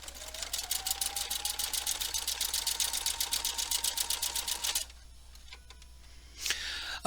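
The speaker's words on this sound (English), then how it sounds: "I'm also using my open toe foot, and I'm going to go and I'm going to start to stitch" A sewing machine runs a satin stitch with an open toe foot, producing a fast, steady rhythmic whirring and clicking for several seconds, then stops and leaves a faint mechanical click and a brief whir.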